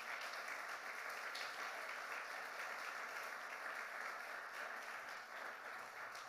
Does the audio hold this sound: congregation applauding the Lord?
yes